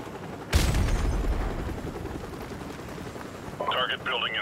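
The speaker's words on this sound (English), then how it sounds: "Oh, grenade." A grenade blast in Modern Warfare Remastered booms once, loud and close, with a broad low rumble that slowly fades, and a voice speaks briefly near the end.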